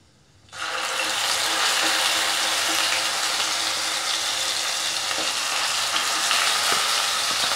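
Onion paste hitting hot oil in a pan with cumin for methi matar malai, breaking into a sudden loud sizzle after a brief quiet moment and then frying in a steady, dense hiss.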